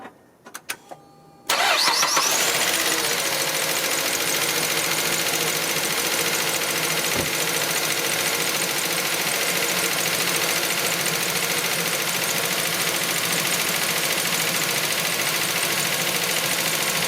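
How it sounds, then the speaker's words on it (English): A 2011 Mazda CX7 engine cranks briefly, catches and settles into a steady, loud idle that runs on without pause after a short quiet moment. "let's start the car."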